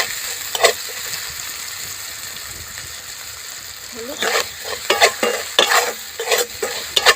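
Lentils and rice frying in a pan while being stirred, a low sizzle with a burst of rhythmic spoon scrapes and clinks in the second half, close, with a dog barking and a voice speaking briefly.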